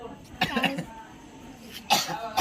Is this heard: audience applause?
no